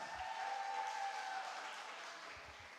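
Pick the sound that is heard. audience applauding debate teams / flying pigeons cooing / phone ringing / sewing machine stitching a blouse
audience applauding debate teams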